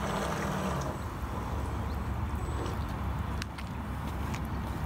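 A small electric motor drives an RC bait boat across water at half throttle, a steady whirring hum with continuous water splash and slight wind, fairly faint and even throughout.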